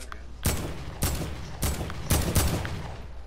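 Gunfire in Fortnite Season 8 squad play: four sharp bursts of rapid shots spaced about half a second apart, fairly loud and close, with no talking over them.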